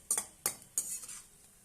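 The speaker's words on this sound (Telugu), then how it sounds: "బ్రౌన్ కలర్ వచ్చే వరకు వేయించుకోవాలి" Bread for a bread halwa fries in ghee in a pan: three sharp utensil scrapes and clatters over a soft, low sizzle, close by with no voices.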